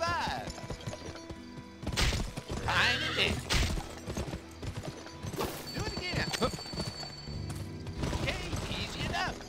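Horse in the video game GUN neighing and whinnying over clip-clop hooves, loud and close, with someone speaking briefly between the calls.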